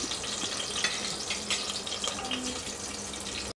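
Onions and green chillies fry in hot oil for chicken biryani, a steady, close, hissing sizzle that runs continuously before cutting off sharply at the end.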